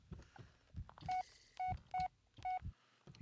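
Mobile phone beeps in the Blair Witch video game on PC, four short, clear electronic tones in an irregular rhythm, each following a soft thud or footstep in a quiet room.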